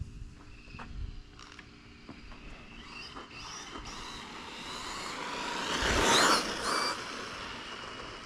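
A Losi Promoto RC motorcycle in on-road mode pulses its rear wheel, making a whirring electric-motor whine that rises and swells in repeated bursts, loudest near the end, with faint mechanical creaks.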